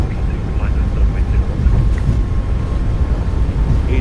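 Boeing 737 MAX 8 jet engines at takeoff power in the MSFS2024 flight simulator, Oslo departure: a loud, continuous low rumbling roar with steady broadband noise throughout.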